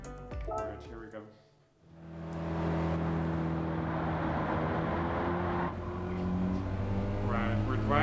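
A 4-wheel drive car's engine in Gran Turismo 7 drops away briefly, then rises into a sustained, steady drone with strong harmonic tones, fairly loud and continuous.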